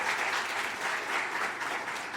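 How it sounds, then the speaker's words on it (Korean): Warm congregational applause in a Korean Sunday church service, welcoming visiting missionaries; a brief, steady burst of many hands clapping close by. "박수로 한번 격려하겠습니다"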